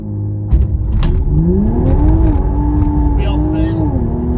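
A stock Toyota GR Supra 3.0 in sport mode launches hard with launch control, its engine revving up through rising pitch sweeps and a gear change as it accelerates, heard loud from inside the car.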